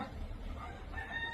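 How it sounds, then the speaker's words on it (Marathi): Desi hens at a poultry farm cluck in a continuous low chatter, moderately near and fairly quiet, with no talking over them. "बघा चालल्यात कोंबड्या, बघा गेली एक कोंबडी गेली"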